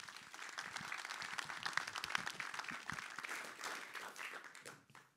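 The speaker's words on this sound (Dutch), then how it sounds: "Ik geef graag een applaus voor René de Kam." A roomful of people clapping steadily at a history café lecture, dense and sustained, fading out at the end.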